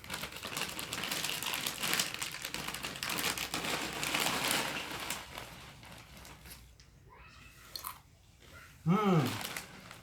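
Crunchy original salted jackfruit seed chips being bitten and chewed up close, a run of dry crackling crunches that fade toward the end, with faint background voices.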